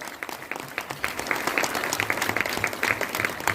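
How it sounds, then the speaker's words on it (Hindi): Audience clapping loudly and continuously for DXN at a crowded Hindi-language business seminar, a dense steady roar of many hands throughout. "DXN के लिए जोरदार ताली मारो।"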